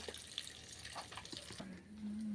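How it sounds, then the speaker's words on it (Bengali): Fish oil rendered from fish is poured from a height into a wok, giving a faint, steady liquid trickle at low level with light clinks. "তেলটা আমি ওপর থেকে গড়িয়ে দিচ্ছি দেখুন একবারে স্বচ্ছ তেলটা বেরিয়েছে"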